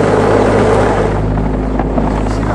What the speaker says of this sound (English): a box full of HEXBUG nano robots, which vibrate noisily when they propel themselves around